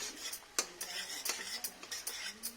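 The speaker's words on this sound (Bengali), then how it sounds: "এখন আমি পালং শাকের পেস্টটা দিয়ে দেব।" Spinach paste for palak paneer is stirred and fried dry in a pan, with a quiet run of rhythmic spatula scrapes and light clinks over a faint sizzle.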